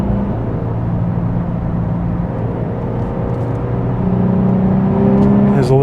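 A Nissan 350Z engine pulls in third gear, a steady droning growl with road and wind noise that swells slightly louder toward the end as the car accelerates.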